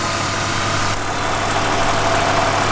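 Alpina B3 3.0 E36 engine idling at a steady, even drone with a close, constant low rumble and no voices.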